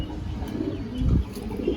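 A Rampuri breeding male pigeon gives a low, rolling coo close by, swelling briefly in the middle over steady low background noise, with no voices.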